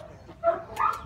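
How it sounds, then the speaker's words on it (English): A nine-month-old male Labrador puppy in a shelter gives short yipping barks and whimpers in two brief bursts, close by and moderately loud. "9-month-old lab puppy."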